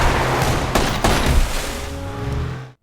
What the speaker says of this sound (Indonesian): Lucia kabur melarikan diri meskipun akhirnya ditembak oleh Boneng